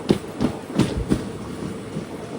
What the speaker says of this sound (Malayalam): 6:14 ട്രെയിൻ ഇപ്പോൾ തിരുത്തണി സ്റ്റേഷനിലേക്ക് ഇതാ എത്തിയിരിക്കുകയാണ്